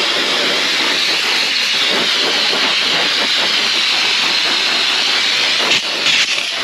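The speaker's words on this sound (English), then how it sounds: "we're going to start by getting the seats all wet" A sprayer sends a strong, steady hiss of water onto the seats of a Can-Am Defender side-by-side, loud and close and unbroken apart from a brief dip near the end.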